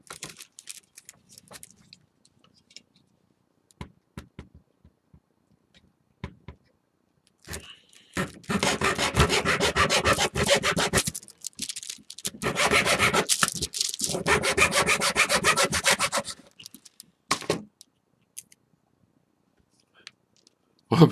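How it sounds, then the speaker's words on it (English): A hand saw rasps through wooden posts in two long bursts of steady back-and-forth strokes, framed by scattered clicks and knocks before and after. "Hope you enjoyed me sawing off pieces of these posts"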